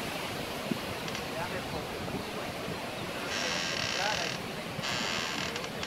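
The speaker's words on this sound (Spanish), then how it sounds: "por allá es donde está entrando el huracán, por aquí está saliendo el huracán ya" Hurricane wind roars through trees around a house in Florida, a constant broadband rush with stronger gusts swelling midway; someone talks faintly underneath.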